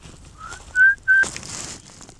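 A person whistles to a camel out in the Sahara desert: three short rising whistled notes, close and clear, followed by a burst of breathy noise and faint wind.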